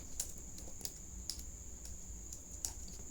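Quiet typing on a computer keyboard while entering data in Excel, with soft scattered key clicks at an uneven pace over a low background hiss and no talking.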